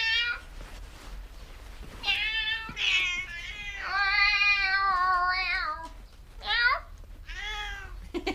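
A house cat meows repeatedly, a series of clear, drawn-out, close meows with short pauses between them, loud and without other sounds.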